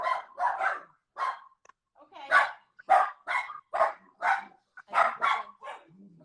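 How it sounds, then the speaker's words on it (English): Dogs named Cappuccino and Tom Leader bark repeatedly at close range, a dozen or so sharp barks in an uneven rhythm with short gaps between them. "I love your dogs so much, Cappuccino and Tom Leader."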